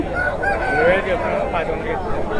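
A country rooster crows loudly and close by at a rural chicken market, a drawn-out wavering call with other fowl noise underneath.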